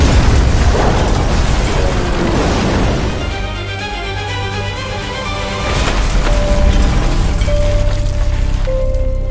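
A loud, rumbling blast in a busy city area, with crackling debris and a sustained roar, followed by a low rumble and high whistling tones fading in and out.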